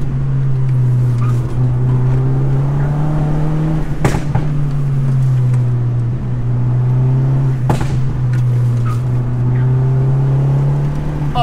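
Fiat car engine droning steadily from inside the cabin while driving through a run of curves on a mountain road, pitch easing down and back up with throttle lifts, plus a couple of sharp knocks.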